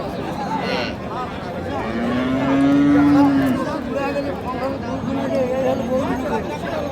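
A Sahiwal cow with her calf at the Raniganj cattle market in Dinajpur lets out one long, drawn-out moo nearby, amid steady chatter from the crowd.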